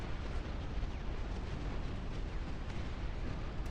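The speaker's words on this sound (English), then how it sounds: "But the bombs are away." Bombs dropped from a bomber explode in the real-time strategy game Dust Front, a dense continuous rumble of blasts merging into one loud, steady roar without distinct separate booms.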